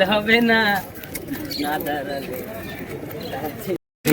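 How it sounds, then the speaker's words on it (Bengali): A Madras pigeon coos at a pigeon market, soft low calls mixed with other birds under someone talking nearby almost throughout. "একটা ম্যাড্রাস পায়রা আপনাদের শখ করাচ্ছি পায়রাটা দেখুন বন্ধুরা"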